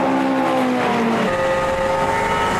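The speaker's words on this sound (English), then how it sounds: "Greg Rose and Dean Cook's number 20 Tuscan started together" TVR Tuscan race cars roar continuously at high revs on a circuit, a dense loud drone with pitch shifting as cars pass nearby.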